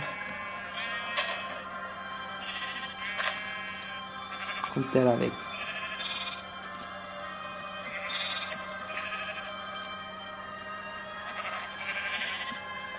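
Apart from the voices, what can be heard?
sheep bleating in a video game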